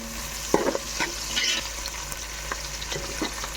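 Sliced onions fry in a pan with a steady sizzle, punctuated by a few sharp stirring clicks and scrapes.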